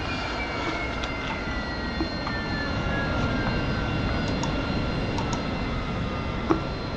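AV-8B Harrier jet engine in the DCS flight simulator spooling down after the throttle is cut on the ground, a loud steady roar with a slowly falling whine, unbroken and with no voices.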